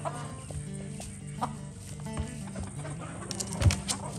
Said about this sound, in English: and the chickens are going to join him,